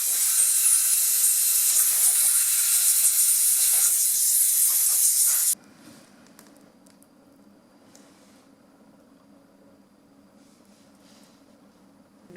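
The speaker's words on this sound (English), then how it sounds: "I'm going to blow them out from the inside out, from this side out, to push any debris that's in there out." Compressed air blowing debris out of a gas furnace part, a loud sharp hiss held for about five seconds that cuts off abruptly, leaving faint quiet handling noise in the room afterward.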